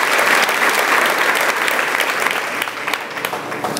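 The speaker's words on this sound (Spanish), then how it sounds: "te damos el mejor aplauso de esta noche a ti, precioso Dios" A church congregation applauds loudly and continuously, the clapping thinning slightly toward the end.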